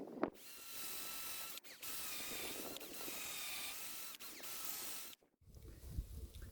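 A power drill with a fairly blunt bit whines steadily as it bores into hardwood, the pitch holding with brief pauses and a short stop near the end; close and fairly quiet.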